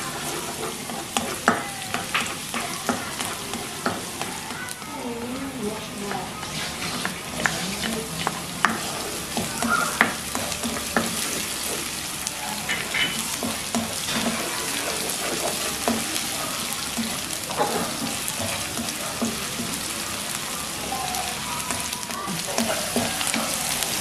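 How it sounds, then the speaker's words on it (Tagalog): Garlic sautéing in hot olive oil, a steady loud sizzle and crackle with occasional stirring scrapes throughout, no talking. "unahin natin ang ating mantika, olive oil. Bisa tayo ng bawang."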